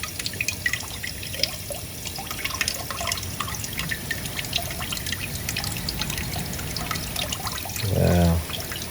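Water trickles and drips steadily while mud is washed off a coarse gold nugget, a close, continuous splashing that swells briefly near the end.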